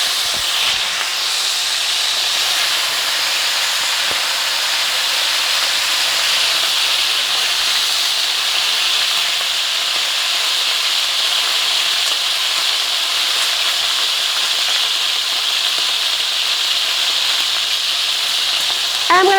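A ribeye steak sizzling in a pan. A loud, steady frying hiss carries unbroken for the whole stretch, close up, with occasional faint clinks.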